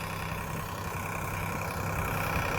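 A tractor engine idles close by on a farm, a low rumbling drone that holds constant throughout with no voices.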